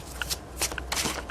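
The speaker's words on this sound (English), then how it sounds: "Shuffle a bit more." Tarot cards being shuffled in quick bursts of papery riffling and soft slaps, close and fairly quiet, with brief pauses between handfuls.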